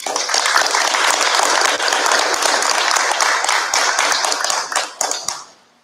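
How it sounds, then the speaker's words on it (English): An audience at a sixth grade awards day ceremony gives steady, loud applause that holds for several seconds, then thins out and fades. "If we could give these students a round of applause for having the principals list for the entire year."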